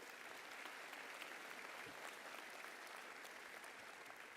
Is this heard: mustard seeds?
no